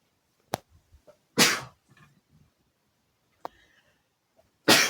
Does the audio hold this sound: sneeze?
yes